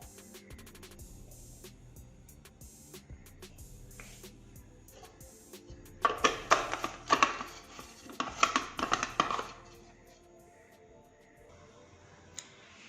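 Electric mixer grinder (mixie) grinding bread slices into crumbs, heard as several short loud bursts of whirring and rattling pulses in the middle, with quieter clattering before and after.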